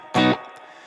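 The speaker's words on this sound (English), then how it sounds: "Let's just pull up that reverb a bit." Electric guitar through a BOSS GT-1000 with its reverb raised: one short, loud strummed hit, then a soft reverb tail that lingers and fades, with no voices.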